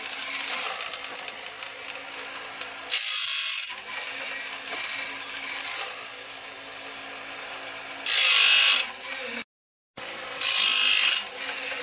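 A Tecomec automatic chainsaw chain sharpener runs with steady mechanical ratcheting and clicking, broken by several louder bursts of grinding as the wheel meets the cutters, close and without talk.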